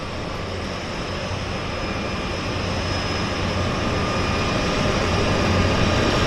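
Cessna Caravan floatplane of Harbour Air taxiing on the water at a Vancouver float base, a steady turboprop drone with a faint high whine, moderately loud and slowly building, with no talk.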